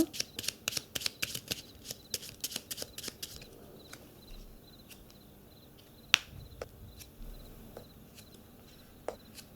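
Tarot cards being shuffled: a quick run of crisp riffling flicks and slaps at first, then sparser single card snaps and taps, close up and with no talking.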